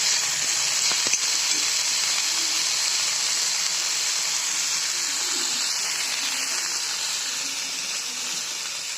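Fenugreek (methi) greens cook in a pan, giving off a steady, close sizzle and hiss that stays even and loud throughout and eases slightly toward the end, with no voices.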